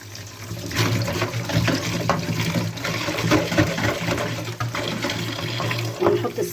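Water runs steadily from a kitchen tap while tilapia is being cleaned, a continuous close splashing hiss with small clinks and shifts as the fish is handled.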